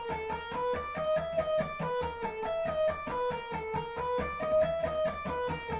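Distorted electric guitar plays a fast, steady three-note-per-string picking sequence in an aggressive Aeolian run, each note sharply articulated in an even repeating rhythm, loud and alone with no talking.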